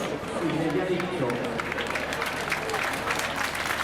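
A crowd at the Cavalcata Sarda parade in Sassari applauds a passing group, a steady wash of clapping and crowd noise under a commentator's voice, with footsteps or running and a low rumble beneath.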